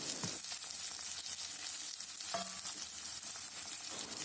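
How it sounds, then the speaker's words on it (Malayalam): Green chillies and curry leaves sauté in a pan with a dense, continuous sizzle, a few stirring scrapes breaking through, heard close and alone without any speech. "ചെറുതായിട്ടൊന്ന് കളർ മാറുന്നത് വരെ നല്ലപോലെ ഒന്ന് വഴറ്റിയെടുക്കണം."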